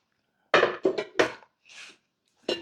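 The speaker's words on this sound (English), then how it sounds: "I am going to slide that over and bring over our black-eyed peas." A pot slid across a stovetop while cooking black-eyed peas, giving three quick close metallic scrapes and knocks, a softer shuffle, then one more clank, with no talking.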